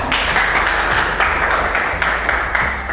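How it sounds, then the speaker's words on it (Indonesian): A class of students claps after a lesson, a fairly loud, close burst of hand claps with uneven rhythmic accents, heard alone without talk. "Tepuk tangan"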